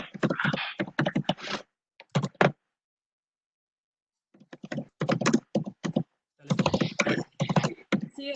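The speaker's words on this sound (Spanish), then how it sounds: "si escuchando gente que está escribiendo con los teclados, tienen que mutear los micrófonos" Computer keyboards being typed on over unmuted microphones during an online corporate webinar, heard as dense bursts of rapid clicking that pause and resume several times.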